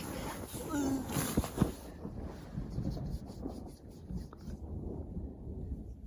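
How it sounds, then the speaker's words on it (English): Low rumbling thunder rolls through a gusty mountain trail scene on the Colorado Trail, with wind buffeting the microphone and a few sharp cracks. "Be thankful that despite the thunder,"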